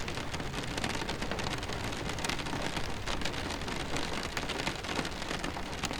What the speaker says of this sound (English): It's always raining here. It's raining here now.